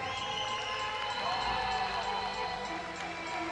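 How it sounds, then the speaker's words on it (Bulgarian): Crowd at a MAXFIGHT 9 MMA event applauding and cheering for a debuting fighter, a moderate, steady wash of clapping and voices beneath tonal music in the hall. "Аплодисменти за Светлозар"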